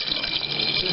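Water from a tap runs steadily into a soup pot, about a litre poured for a homemade soup with pasta, a continuous close splashing rush filling the whole second with no talk.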